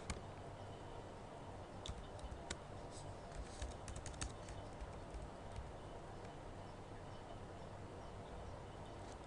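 Typing on a computer keyboard: a faint, steady run of small key clicks under a constant background hiss, with no talk.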